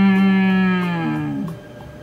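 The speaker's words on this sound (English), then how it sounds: "Is it a cow? Yes, it's a cow." A single cow's moo in a farm-animal vocabulary lesson: one long, low, close call that slides downward in pitch and fades at the end.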